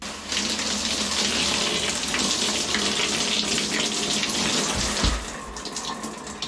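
Water runs steadily from a tap as a beer shampoo bar is rinsed out of hair, a continuous close splashing rush that dips briefly near the end, with no voices.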